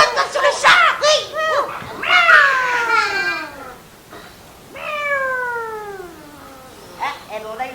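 A cat meows several times in a row, loud and close, with long falling mews, while children's voices chatter around it at an indoor social centre gathering.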